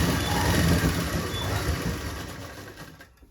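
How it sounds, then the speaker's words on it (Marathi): A sewing machine stitching fabric for palazzo pants, a steady fast mechanical whir that gradually fades and slows to a stop near the end. "कोणतंही कापड ओढायचं किंवा लूज सोडायचं नाही सेम सिंपल पद्धतीने शिलाई मारायची आहे"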